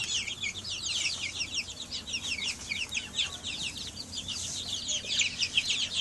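Young 25-day-old chicks in a coop give rapid, high peeping calls, a faint but steady chorus of overlapping chirps over low background noise.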